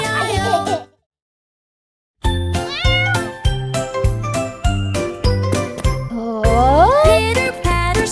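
A cartoon cat meows in a farm-animal nursery rhyme song, one or two short, clear, pitch-sliding meows near the end over a loud, bouncy musical backing with jingling bells, after a brief silent gap.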